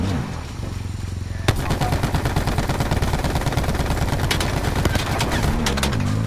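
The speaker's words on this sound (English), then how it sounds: "we're getting shot at" Rapid automatic gunfire in the video game Black Ops 4, a sharp burst that opens into sustained rattling volleys, loud and close, running nearly without pause.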